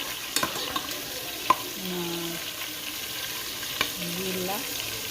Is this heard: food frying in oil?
yes